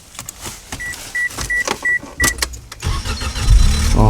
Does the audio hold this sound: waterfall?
no